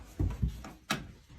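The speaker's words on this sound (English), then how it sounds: "Shut the door, make sure it clicks." A door is pushed shut indoors and its latch clicks, heard as a few soft thuds followed by a sharper click, fairly quiet and close.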